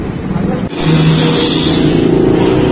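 Steady outdoor road traffic rumbles at a street-side dining spot, a continuous loud wash of passing cars with a brief dip near the start and no clear talk.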